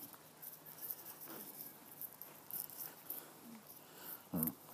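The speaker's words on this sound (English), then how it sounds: "Just starting to rain." Light rain begins pattering on a May garden walk among rhododendrons and camellias: soft, scattered drops against a faint outdoor hush, with a brief closer rustle near the end and no voices.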